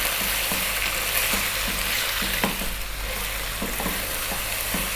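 Onion and garlic sizzle steadily in a hot pan for beef rice, with a dense continuous crackle and a few soft stirring knocks, close and loud, no voices.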